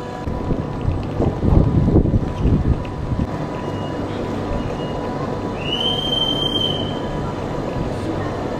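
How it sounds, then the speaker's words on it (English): A train pulls into a station in Switzerland near Interlaken, rumbling and clattering over steady background noise, with a long metallic wheel squeal rising later on. "There is our train."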